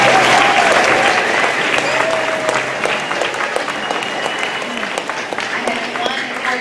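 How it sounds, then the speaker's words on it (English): Strong audience applause at a strings concert, a thick wall of clapping with scattered cheers and voices, steady and near for several seconds before tapering slightly. "Give everyone another round of applause"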